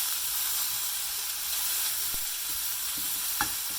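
Aubergine fries in olive oil in a pan, giving a steady, bright sizzle with a few faint clicks and taps of utensils, close and continuous.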